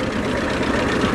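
A 1929 Rushton vintage tractor with a 28 horsepower engine idles at a vintage tractor rally in Ayrshire, giving a steady, close, low rumble that runs evenly without a break.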